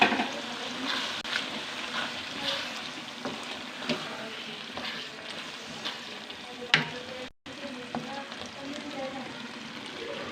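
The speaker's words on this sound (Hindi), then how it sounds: "अब इसको हम अच्छी तरह हिला दिया।" A spoon stirs taro and eggplant curry with yogurt and green chillies in a sizzling pan, scraping and frying sounds repeating steadily up close over a continuous low hiss.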